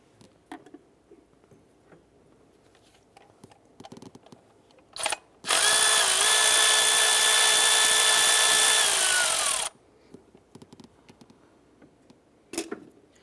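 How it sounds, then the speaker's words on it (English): A power tool runs in one loud, steady burst of about four seconds, spinning a 10mm bolt loose on a 2011-2018 Ram 1500 during MDS solenoid replacement, with faint clicks and handling noises before and after. "I'm going to go ahead and loosen this 10mm bolt right here."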